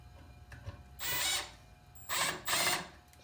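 Screws, number 6 and 1.25 inches long, are driven into 3/4-inch plywood with a power drill, giving three short whirring bursts. The bursts sit close together against a quiet background, with no talking.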